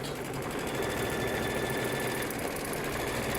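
A sewing machine stitches a quilted bunny trivet along the outer edge of its batting, a steady, loud, continuous mechanical whir with fine rapid clatter running unbroken throughout.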